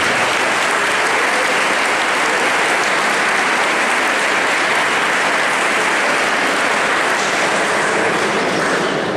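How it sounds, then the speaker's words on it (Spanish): An audience at a school sports-meet opening ceremony claps for the parents' association, a dense, loud and continuous wash of applause lasting throughout. "Un aplauso para ellos también"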